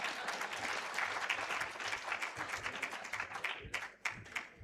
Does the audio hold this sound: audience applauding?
yes